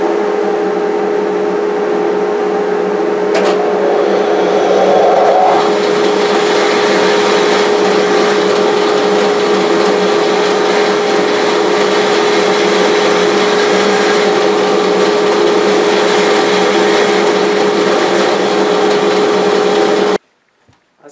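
A bandsaw runs loud and steady while cutting into a wooden rook box, its motor drone and blade whine holding continuously for about twenty seconds before stopping abruptly.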